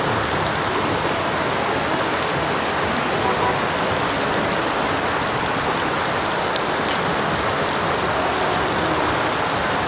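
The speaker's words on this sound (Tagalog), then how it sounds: "Kailangan muna namin patilain tong ulan na to." Heavy rain pours steadily at a flooded market, a dense, constant hiss of drops hitting water and surfaces, loud and even throughout with no clear voices above it.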